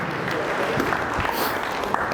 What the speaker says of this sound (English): Will, give Will Huddleston a round of applause.